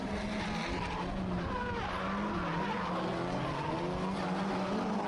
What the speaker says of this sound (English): we're actually spinning these tires sideways and we're using the grip and the power of the car to propel ourselves forward